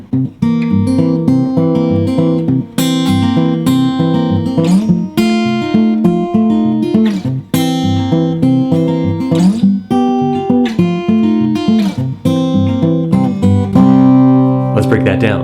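Fingerstyle guitar Travis picking a blues in C, a I-IV-V progression on a single chord shape, with a steady alternating bass thumb and bright plucked melody notes that keep up a lively rhythm throughout, played solo with no voices.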